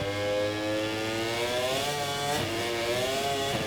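MotoGP 24 video game motorcycle accelerating out of a corner, a loud high engine whine rising steadily through the revs with layered harmonic buzz, no voices.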